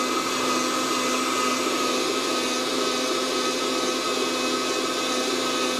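A Fresh Roast SR 800 coffee roaster runs steadily during a roast, its fan giving a loud, constant hair-dryer-like whoosh and whir that never changes, heard up close with no talking.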